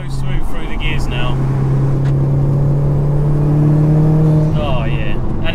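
An Audi TT 1.8T fitted with a 3-inch downpipe accelerates, giving a steady, fairly loud engine drone heard from the cabin. A person talks over the engine throughout.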